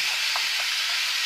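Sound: potatoes and zucchini frying, stirred in a pan

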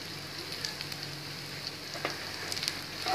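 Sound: chilies frying in a pan

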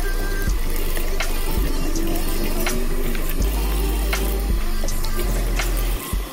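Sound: water running in sink while washing a wig

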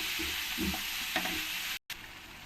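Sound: spice paste being sautéed with water in a pan

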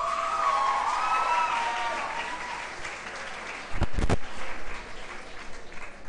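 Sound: assembly applause for teachers

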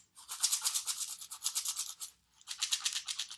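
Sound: homemade kitchen shaker filled with dry oatmeal or rice

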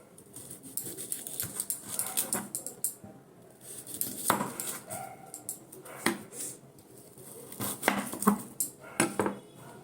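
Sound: cutting potatoes for aloo chop with a knife

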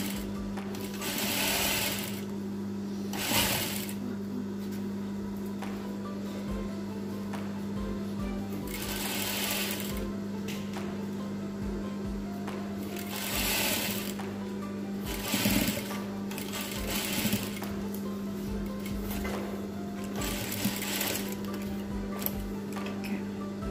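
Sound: sewing machine stitching a DIY fabric face mask

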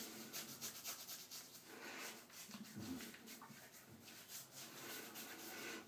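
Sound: rubbing shaving soap onto wet face

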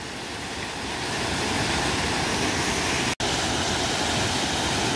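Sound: waterfall at Deokpung Valley gorge

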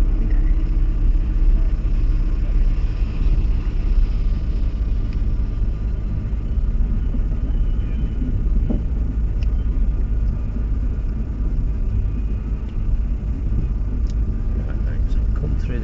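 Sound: Nissan GT-R coasting down the pit lane

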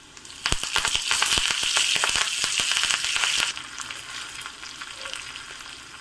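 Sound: curry leaves sizzling in hot oil

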